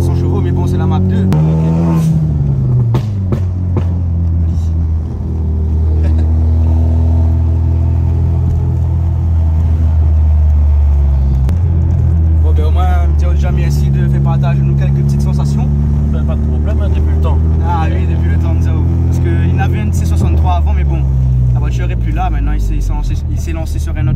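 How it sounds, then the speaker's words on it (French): A tuned Ford Focus MK3, stage 4 with about 400 horsepower, rumbles loudly up close, its deep engine note rising and falling through several revs and settling back to a throbbing idle. "Voilà ce que ça donne une Focus MK3 préparée avec à peu près 400 chevaux"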